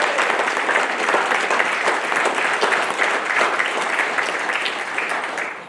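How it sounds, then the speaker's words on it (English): Sustained applause from a large audience of families at a Navy graduation ceremony, a dense, steady clapping that holds for several seconds before easing slightly at the end. "Families, please join me in a round of applause for the Navy's newest 3rd class petty officers."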